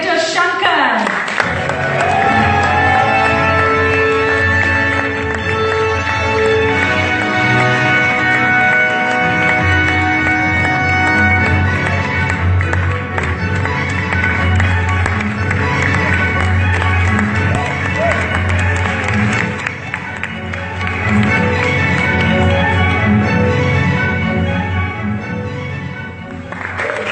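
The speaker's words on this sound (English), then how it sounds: "So ladies and gentlemen, please, a round of applause for director Shankar." A crowd applauds and cheers at the music launch of the film 2.0 as director Shankar is welcomed on stage. The loud, sustained clapping and cheering continue over music playing throughout.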